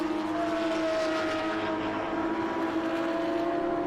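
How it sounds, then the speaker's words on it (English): A Ferrari race car's engine roars steadily on the track at the Atlanta SpeedTour, a loud, sustained drone holding close and constant throughout without a break. "Ah, it sounds so good, that car."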